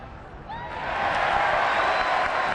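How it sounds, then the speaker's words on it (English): Crowd at a college baseball game between Florida State and Florida in 1996 applauding a ball boy's catch, swelling from a quiet murmur into steady clapping and cheering. "the crowd now applauds the ball boy who makes the catch of this ball coming down off the screen"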